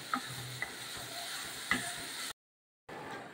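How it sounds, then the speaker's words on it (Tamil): Sliced ginger and three green chillies sauté in oil in a pan for a traditional sankara fish curry. A low, steady sizzle carries a few light utensil taps, then stops abruptly for half a second before resuming faintly, with no voices. "இஞ்சி, 1 இஞ்சி நீல வாக்கில் கட் பண்ணது, 3 பச்சை மிளகாய், எல்லாம் நல்லா கொஞ்சம் வதங்கி வர்ற வரைக்கும் வதக்கிக்கணும்."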